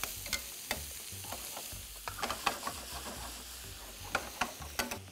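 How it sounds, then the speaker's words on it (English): Chopped onions and garlic cook in a pan with a soft sizzle, punctuated by repeated scraping and tapping stir strokes at an uneven rhythm, close but fairly quiet, without talking. "Just give it a stir. Just cook your onions and garlic for about a minute or so."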